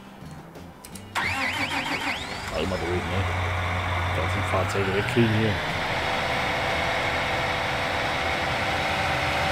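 Tractor engine in Landwirtschafts-Simulator 19 cranks to life after a second of quiet, sputters through uneven revs, then settles into a steady mid-pitched idle, with someone talking over it.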